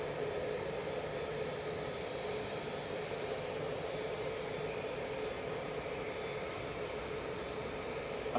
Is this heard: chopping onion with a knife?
no